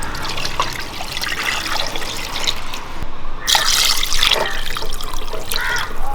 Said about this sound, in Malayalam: മുട്ട വേകാൻ വേണ്ടി നമുക്ക് ആവശ്യത്തിനുള്ള വെള്ളം ഒഴിച്ചു കൊടുക്കാം